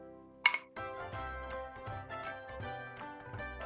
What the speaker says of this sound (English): I'm gonna throw a little bit more ice